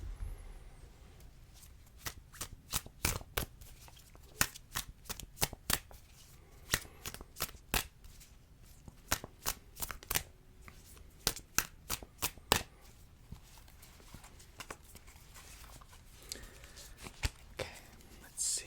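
Tarot cards are shuffled and handled in a quiet ASMR setting, crisp close riffles and taps coming in irregular bursts with soft spoken voice faintly underneath.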